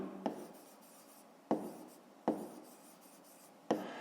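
Pen writing the answer to a fifth-grade math exercise, four brief scratchy strokes at irregular intervals, each starting with a tap and fading out, quiet and close with no voices.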